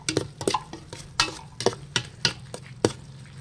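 Utensils scrape and clatter against a pan in quick irregular strokes as sauce is added, with a soft sizzle underneath; no one speaks.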